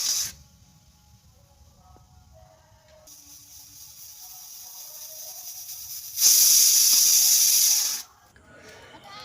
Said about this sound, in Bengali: এদিকে যে দেখো ছেলের জন্য ভাত বসিয়েছি কুকারে